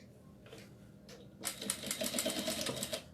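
A sewing machine stitching a seam on a doll, quiet at first and then a loud, steady rapid run of stitching for about the last second and a half, with no one speaking.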